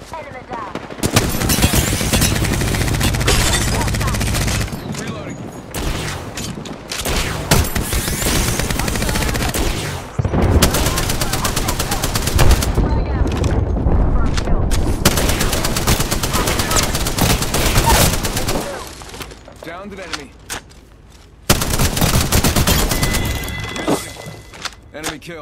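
Bursts of rapid automatic gunfire with sharp impacts and breaking sounds fill a firefight in Apex Legends, loud and close, pausing briefly between volleys while game voices call out over the shooting.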